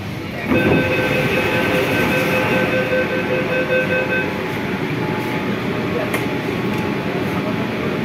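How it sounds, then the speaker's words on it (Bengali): A metro train entering Howrah station rumbles steadily alongside the platform, its motors whining with high tonal squeals as it rolls in, loud and continuous. "হাওড়া স্টেশনে মেট্রো ঢুকছে"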